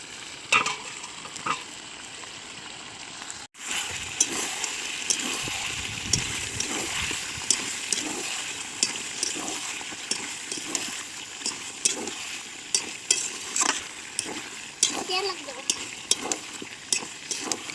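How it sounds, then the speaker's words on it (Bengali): Chicken is braised and stir-fried in a pan with tomato and mint leaves, giving a steady close sizzle and frying crackle with scraping stirs throughout. "এই দেখো চিকেন কষা হচ্ছে আমাদের আজকে"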